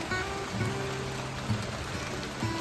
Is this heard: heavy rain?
yes